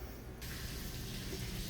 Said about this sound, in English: I'm going to turn some water on